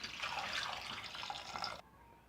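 Water splashes and gurgles as it is poured steadily over potatoes in a pressure cooker, a continuous bright rushing that stops suddenly.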